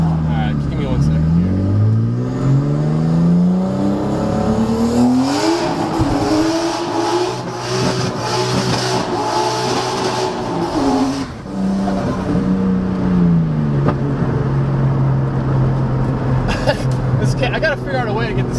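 Nissan 240SX with a swapped RB20 engine revving hard, rising and falling through the revs, loud and close, with talking over parts of it.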